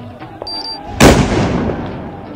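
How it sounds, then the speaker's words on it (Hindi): A Diwali firecracker goes off with one loud, sharp bang close by, followed by a brief rumbling decay, with a faint whistle and voices just before it. "अबे ये कौन सा पटाखा दिया तूने?"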